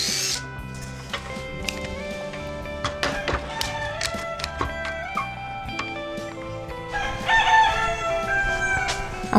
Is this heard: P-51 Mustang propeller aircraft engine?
no